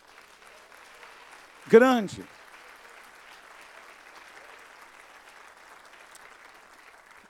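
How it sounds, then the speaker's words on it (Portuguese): A church congregation claps at a large service, a steady, soft wash of applause that carries on throughout while a voice briefly shouts over it near the start. "Pode aplaudir o Senhor."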